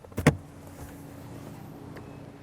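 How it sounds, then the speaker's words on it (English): Rear seat back of a 2022 Subaru Outback being adjusted: a couple of sharp mechanical clicks and a clunk close by at the start, then a quiet hum of cabin background. "Now, the seat back of the back seat can also adjust a little bit."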